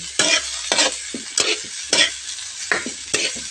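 Pinakbet is stirred in a pan, with about six loud, separate scraping and sizzling strokes at an uneven rhythm over a continuous low fry. No voices are heard.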